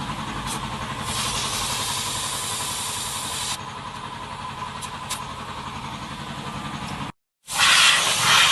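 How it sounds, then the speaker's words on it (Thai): Compressed air hisses steadily as it blows out a motorcycle tire fitted with mag wheels, a long continuous rush that cuts off briefly and then returns louder and harsher. "คนก็มาเป่าให้หมดกระเป๋าข้างในเนี่ยนะ"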